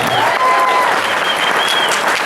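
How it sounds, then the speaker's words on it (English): Audience applause at an African American Caucus event, a loud burst of dense clapping filling the short moment with a faint whistle-like tone over it. "Give him a big round of applause."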